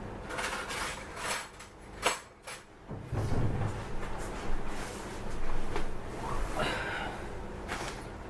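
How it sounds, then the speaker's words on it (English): Small metal teaspoons clink and rattle against each other and a container while almond hookbaits are being prepared, a few close, quiet metallic taps and rustles with breathing in between. "I'll take my little spoons"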